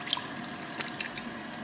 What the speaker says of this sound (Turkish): Yüzünüzü yıkayalım.